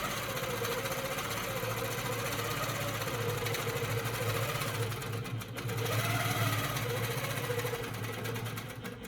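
Longarm quilting machine stitching across a jelly roll quilt, a steady mechanical hum and rapid needle chatter running continuously at close range, with no talking.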